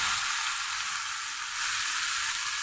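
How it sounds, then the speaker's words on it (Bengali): Spice paste sizzling steadily in a hot pan while being sautéed for a Bengali green banana dhoka, with asafoetida added, a loud continuous frying hiss with no pauses. "মশলাটা আবার কষানো হয়ে গেল, একটু হিং দিয়ে দিচ্ছি"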